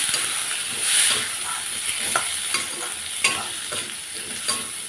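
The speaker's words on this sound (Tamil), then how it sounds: "இது நல்லா வதக்கி விட்டுருவோம்." Small potatoes (Chinese potatoes) with Kashmiri chili powder sizzle and fry steadily in a pan nearby, with a utensil scraping and stirring at irregular intervals.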